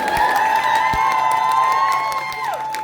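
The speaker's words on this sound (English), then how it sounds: "One more big round of applause for Byron," A convention show audience cheers and claps for a performer, with whoops and shouts over scattered clapping while tonal music or a held voice rings through.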